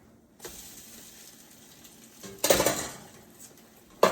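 French toast flipped in a pan: a quiet sizzle, then a sharp metallic scrape and clatter of a spatula against the pan, with a second clink at the end.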